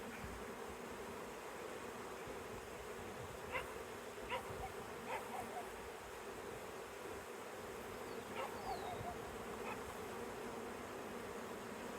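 Honeybees from a swarm drone in a continuous, even buzz throughout, with a few faint higher chirps or calls rising briefly in the background; no one speaks.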